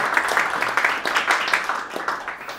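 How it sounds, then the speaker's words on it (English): A small meetup audience at a programming talk applauds to welcome the speaker, with loose, uneven clapping from a modest group, close and fairly loud, lasting a couple of seconds. "Give a round of applause"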